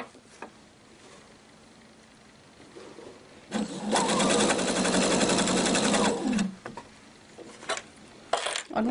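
A domestic sewing machine stitches elastic onto a striped skirt, running in a steady, loud whirring burst for about three seconds, then stopping, with a few shorter mechanical clicks and handling sounds before and after.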